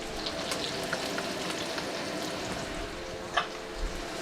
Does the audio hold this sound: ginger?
yes